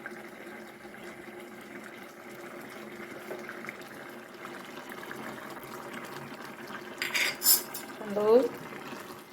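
A utensil stirs and scrapes through egg aviyal in a metal pot, giving a few clattering metallic clinks and scrapes near the end after a low background hum, with a brief word spoken.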